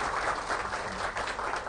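An audience at an emergency medical technician conference gives a brief burst of steady, dense applause, heard alone.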